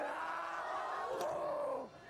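A sports crowd roars in one sustained swell of cheering, urged on by a cheerleader at a Denver-area game, and fades away near the end.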